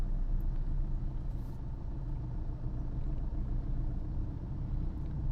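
A car rolling in second gear through Chennai city traffic, a steady low engine rumble with road noise that holds even throughout, no talk.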